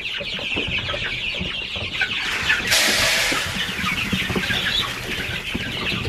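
Chickens clucking and fussing around a knocked-over feeder outdoors, with a brief burst of flapping wings midway over steady farmyard background noise.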